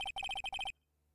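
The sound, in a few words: phone ringtone in Phoenix Wright: Ace Attorney video game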